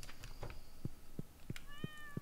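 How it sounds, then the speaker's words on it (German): A pet cat meows softly several times in a row, short evenly spaced calls heard faintly over a steady background of game audio and music. "Miau, sagt meine Katze"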